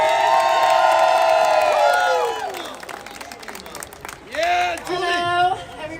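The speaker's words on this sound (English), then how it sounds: "everybody meet Julie Barrett and give her a round of applause right now." A crowd at an outdoor conservative political rally cheers and claps. The sound starts under a loud, sustained tonal sound that fades out, followed by whoops and shouts that swell again in bursts near the end.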